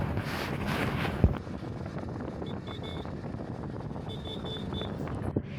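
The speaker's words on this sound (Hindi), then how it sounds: "विपुल भाई थोड़ा तेज से बाइक चला रहा है" Steady wind noise buffets the microphone while riding fast on a motorbike along a rural road. The rush stays constant and fairly close, with a couple of faint thumps and no talking.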